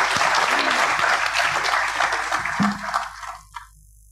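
Audience applause at the close of a talk by Dr. Barbara Oakley on learning how to learn, dense clapping from a crowd that tapers off and fades to near silence with a final lone clap.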